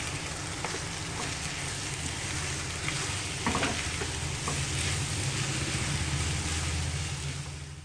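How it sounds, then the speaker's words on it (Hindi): Ginger and garlic fry in a pan over a slow flame for Schezwan chutney, giving a steady, close, continuous sizzle and crackle that runs the whole time with no talking. "अदरक और लहसुन को थोड़ा भून दिया है 5 मिनट तक"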